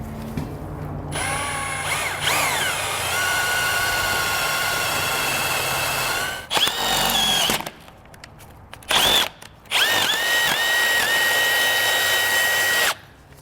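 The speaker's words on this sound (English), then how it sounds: "So I'll go ahead and get all these drilled out." Power drill boring through the steel frame of a 2014 Ram 3500 truck, loud whining runs with rising pitch, stopping and restarting in several bursts, close up with no talking.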